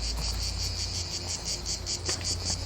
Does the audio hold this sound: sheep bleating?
no